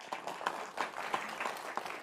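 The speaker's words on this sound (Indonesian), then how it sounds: "Boleh tepuk tangan Bapak Ibu." Audience applause during a televised gubernatorial debate: a quiet, fairly distant patter of clapping from a small crowd, sparse and uneven over two seconds.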